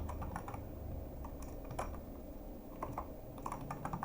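Quiet, irregular clatter of keys on a computer keyboard, short bursts of taps with small pauses between them, close and alone.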